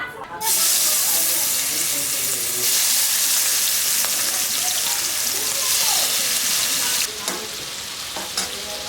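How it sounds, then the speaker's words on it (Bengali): Shrimp frying in hot mustard oil in a wok, a loud continuous sizzle and crackle that holds steady throughout, with a brief dip near the end. "চিংড়ি মাছটাকে লাল লাল করে ভেজে নেবো"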